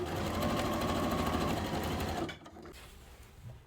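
A sewing machine stitches along fabric seams of a dish drying mat tote, running in a close, steady whirring clatter for about two seconds before stopping, leaving faint handling sounds.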